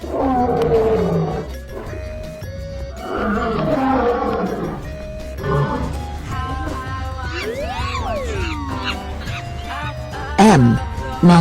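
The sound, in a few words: lion roaring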